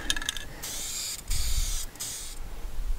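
Spray gun applying clear coat to a 1962 Chevy C-10 truck wheel, close hissing bursts in several passes, each cut by brief pauses, with faint clicks at the start.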